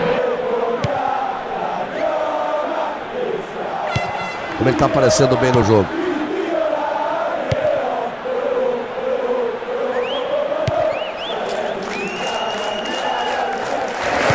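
A stadium crowd roars and cheers after a goal in the eFootball 2022 football game, a match between Sampdoria and RB Leipzig, with the sustained cheering running under continuous commentary.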